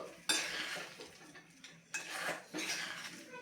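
Sweet potato sheera stirred steadily in a pan, a spoon scraping and clinking against the metal in repeated close strokes, with no voices.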